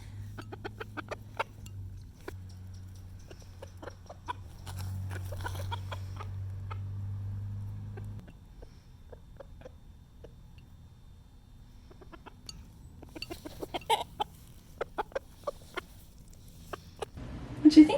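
Chickens cluck and peck nearby in a backyard while being fed corn, with soft scattered clucks, a low steady hum in the first half and sharper pecking taps and clucks toward the end; no talking.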